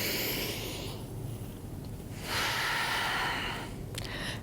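A deep inhale through the nose while rolling up to standing in a sunrise yoga routine, a close breathy rush that swells midway after a quieter exhale.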